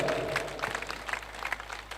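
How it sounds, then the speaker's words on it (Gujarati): Audience applause at a community gathering of the Kutch Vagad Leuva Patel Samaj in Bangalore: a crowd claps in a dense, continuous patter of many hands, moderately loud and slightly reverberant, over a low steady hum. "તાળીઓથી વધાવીએ દાતા પરિવારને અને તમામ દીકરીઓને."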